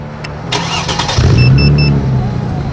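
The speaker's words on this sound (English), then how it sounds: "if I turn this remote on, it should start the car" A real car engine, fitted with remote-control software, cranks and catches, then settles into a loud, steady running rumble close by, with faint electronic beeps overhead and no talking.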